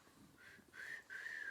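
A person tries to whistle, producing a few thin, wavering tones that start faint and grow slightly louder, with a short gap before a longer, steadier whistle near the end.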